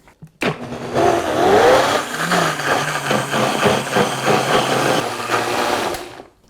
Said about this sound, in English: And then we'll just put our lid on and blend this together.